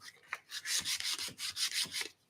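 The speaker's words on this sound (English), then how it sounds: "I'm waxing my teapot here." A painted thrifted teapot is waxed by hand, giving a quick series of soft, rhythmic rubbing strokes, about eight in a row, close and fairly quiet.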